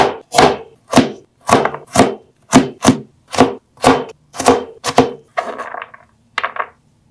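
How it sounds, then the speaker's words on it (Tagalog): A knife chopping a carrot into cubes on a cutting board, giving about a dozen crisp, evenly paced thuds close up, followed by a few lighter scraping taps. "Tapos, hiwain natin into cubes yung carrot."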